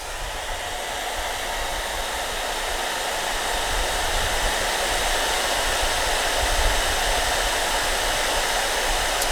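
A portable electric heater runs on medium fan and high heat, powered from a portable power station, giving a steady, loud, unbroken fan-and-air rush with no pauses for the whole stretch.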